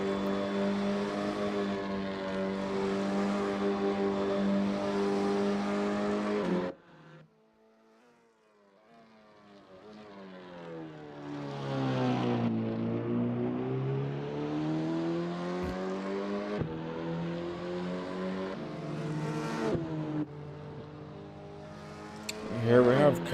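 Race car lapping a circuit in Assetto Corsa, its engine note rising and falling through gear changes, dropping out briefly before climbing back to a loud, sustained howl, with a commentator talking over it.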